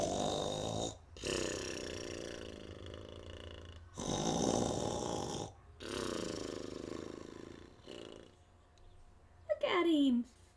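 A voice imitates a bear snoring with long, rumbling breathy snores separated by short pauses, followed by a brief squeaky vocal sound at the end.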